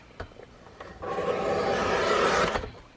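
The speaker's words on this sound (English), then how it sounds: "I'm going to trim the tag pockets off of here real quick" Paper tag pockets being trimmed off a scrapbook page, a steady scraping, rasping cut lasting a couple of seconds after a few small taps and handling sounds, close and fairly quiet.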